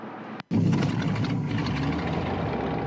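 Icon A5 seaplane engine in Flight Simulator X starting up: after a brief silent gap, a steady loud droning engine tone kicks in and holds without talk.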